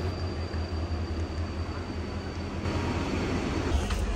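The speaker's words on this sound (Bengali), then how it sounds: "তো আমাদের ট্রেন ঢুকে পড়েছে এখানে" A train pulling into a station gives a steady low rumble and clatter that grows slightly louder toward the end, with a faint high whine over it.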